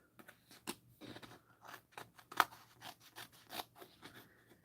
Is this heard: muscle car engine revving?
no